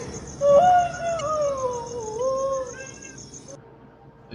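Cat meowing in a played recording filmed in Mexico, a few drawn-out wavering cries in succession, fairly close and clear over a faint steady background hum.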